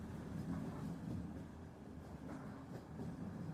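Quiet, continuous low rumble of a train passing on rails, with faint rhythmic clatter and no distinct peaks.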